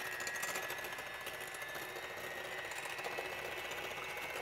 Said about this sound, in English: We're going to go ahead and get our mixer.